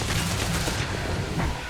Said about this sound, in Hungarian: az ágyú lövi őket?